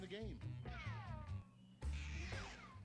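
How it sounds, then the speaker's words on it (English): A cat meows several times in quick succession, with rising and falling cries close by, while a person speaks over and around the calls. "I hear a cat meowing."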